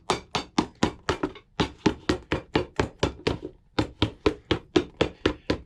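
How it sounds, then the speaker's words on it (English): Rapid, steady hammer blows on a leather shoe sole during resoling, about twenty sharp, evenly spaced strikes landing close and loud with no talking. "I gotta hammer a little"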